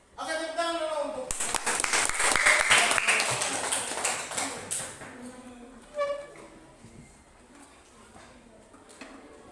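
A classroom group claps during a teaching session: a dense burst of hand claps rises after a spoken opening, holds for a few seconds, then thins out as talking resumes.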